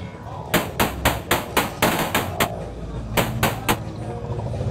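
A modbap Trinity modular drum voice, the arcade channel with its ratchet setting engaged, fires rapid bursts of sharp percussive hits, a run of about eight evenly spaced strikes, a pause, then three more, loud and dry.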